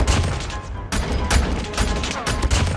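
SKS rifle fire in Call of Duty Mobile with the Deathlance skin: four loud, sharp shots at a quick, even pace, each with a short ringing tail.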